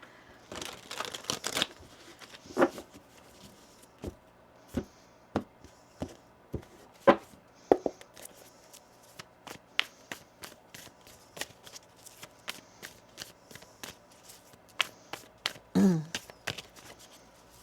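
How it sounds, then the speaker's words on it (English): A deck of tarot cards is shuffled and riffled in a quick burst, then a long run of crisp taps and snaps as cards are squared and placed, close and clear. "One more shuffle here."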